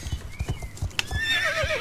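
Horse in the Star Stable Online video game, with a run of steady clip-clop hoofbeats followed by a clear, wavering whinny near the end, close and fairly loud.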